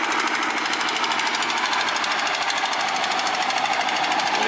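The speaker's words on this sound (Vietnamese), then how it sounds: "Cái máy nè." Large motor of a Vietnamese vỏ lãi long-tail boat on a small, fast-flowing river roaring continuously and close up, with a harsh, rattling, jackhammer-like clatter that holds steady throughout.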